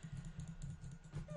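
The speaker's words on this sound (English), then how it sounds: "Sorry about the really loud clicking, by the way." Quick, close clicking from a mouse or keys during a Minecraft game. The clicks come in a steady, busy patter with a low background hum and no clear speech.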